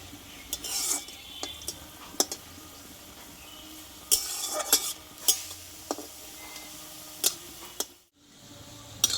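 Oil sizzles steadily as pointed gourd (potol) fritters fry, broken by sharp metallic clinks and scrapes of a utensil against the pan, then a brief quiet gap near the end.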